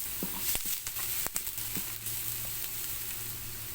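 Onions sizzle in a pan for carbonara, a steady close frying hiss punctuated by a few quick clicks and scrapes of stirring.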